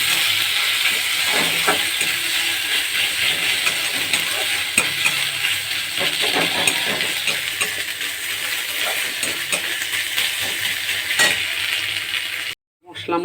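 Spice paste for a dark braised mutton dish stirred and fried over heat, a loud continuous sizzle broken by repeated scraping and clacks of the spoon against the pot, with a short silence near the end.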